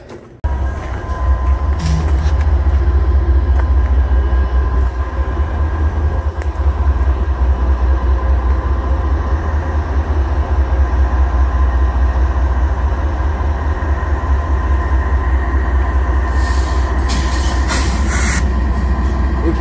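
A freight train heading toward Texarkana rolls steadily along the track, a loud, continuous low rumble and grind lasting the whole time, with faint clanks and squeals near the end.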